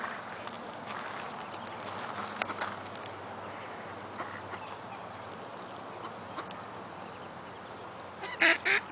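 Faint, distant calls of small white ducks under a steady outdoor hum, ending in a few louder, closer honking quacks.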